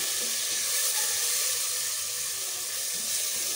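Onions and tomatoes frying with ginger garlic paste in a pan make a steady, dense sizzle and hiss that holds evenly from start to finish, close and fairly loud.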